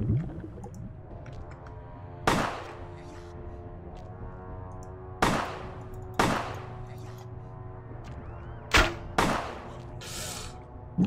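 Gunshots from a slightly buggy gun in Vampire: The Masquerade Bloodlines, six sharp loud reports at irregular intervals, two of them close together near the end, over a steady droning music bed.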